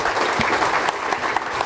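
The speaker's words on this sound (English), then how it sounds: "please applaud the panelists once more." Conference audience applauding panelists after a stock-market discussion, steady dense clapping throughout, fairly close and loud with no talk over it.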